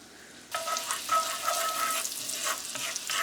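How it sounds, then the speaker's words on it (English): Shallots and mushrooms sautéing in a pan start with a sudden burst of bright sizzling that keeps up steadily, with a few faint tonal clinks of stirring underneath and no talking. "We just want to saute these for a moment"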